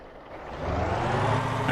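A truck's air brake in a driving video game, a rising hiss and rumble that swells steadily and ends in a louder burst, close by with no talk.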